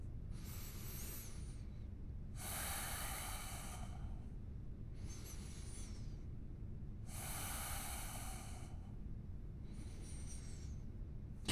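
Slow, deep breaths during a held yoga pose, each long airy inhale or exhale rising and fading in a steady rhythm over a low room rumble.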